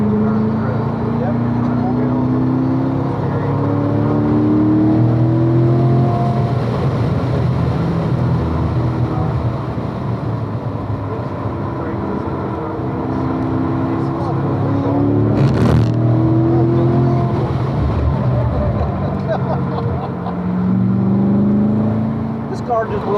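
A race car engine drones and revs as it laps a track from inside the cabin during a ride-along, with pitch sweeping up and down through gear changes, while people talk over it.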